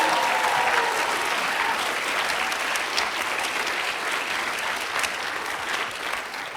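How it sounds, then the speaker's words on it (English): An audience claps steadily and loudly throughout, a dense sustained wash of applause from a crowd at a speaking event. "You can clap for my mom."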